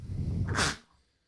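A single sharp sneeze bursts out after a brief breathy intake, then quiet.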